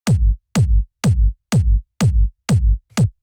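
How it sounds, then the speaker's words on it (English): A tech house kick drum sample hits seven times at an even, steady tempo. Each punchy, loud hit starts with a sharp click and drops into a deep sub-bass thump, with silence between hits. "Next sound we have here is the kick, which sounds like this."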